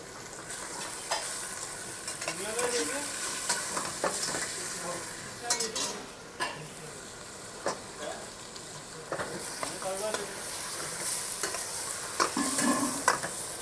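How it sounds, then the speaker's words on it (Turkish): Meat searing in a hot pan as the first step of an okra stew, a steady sizzle and frying crackle with occasional stirring scrapes and light clinks of utensils against the pan, fairly close and without talk. "Etimizi önce mühürlüyoruz baştan."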